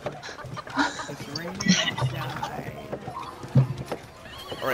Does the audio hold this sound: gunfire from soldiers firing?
no